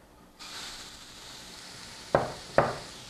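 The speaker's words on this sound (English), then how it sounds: "Going to add our onions" Onions hitting a pan heated over medium, now lowered to medium-low, set off a steady close sizzle, with two sharp clinks of utensils against the pan near the end.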